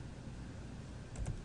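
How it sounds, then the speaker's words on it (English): Quiet keystrokes on a computer keyboard while entering a text box label, a faint steady patter ending in a couple of more distinct clicks. "I'm going to type CC-AS"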